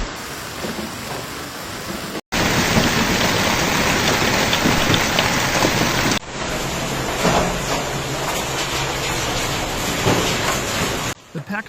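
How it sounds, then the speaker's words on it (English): Heavy rain and hail pound down across Islamabad during a violent storm with roaring winds, a dense, continuous roar of impacts that stays loud throughout, with brief cuts in between. "Torrential rains, roaring winds, and a relentless bombardment of hail pounded both Islamabad and its twin city"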